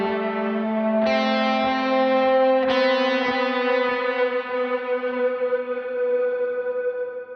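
Electric guitar through a second overdrive gain stage plays a sustained melody line an octave lower, each note ringing long with echo and reverb, loud and alone.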